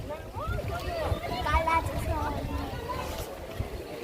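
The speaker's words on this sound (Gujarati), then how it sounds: "જો મિત્રો બોટ ચાલુ થઈ ગઈ છે" A boat moves across a lake at Kankroli in Rajasthan, its steady hum and water wash continuing throughout with wind buffeting, while family members talk over it nearby.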